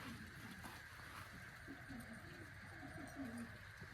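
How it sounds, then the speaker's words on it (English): Pigeons in a backyard pigeon coop give faint, low cooing calls, soft and slightly distant under a steady background hiss. "she's got quite a few pigeons in there"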